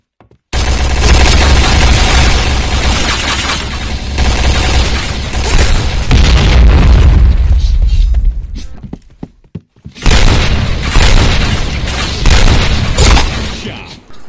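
Rapid gunfire in a competitive online shooter clan match, loud bursts of shots filling most of the stretch, a short near-silent gap, then more firing, with no talk over it.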